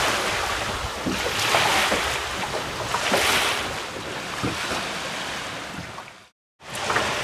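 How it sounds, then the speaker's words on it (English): Strong wind roars over a sailing dinghy while cruising at sea, with water washing and surging alongside and gusts buffeting the microphone. The noise is loud and continuous, broken by one brief silent gap near the end. "This wind's not dying down."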